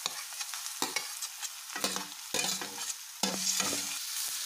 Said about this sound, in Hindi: अब इसमें हम डाल देंगे अपने आलू सेम और टमाटर सब।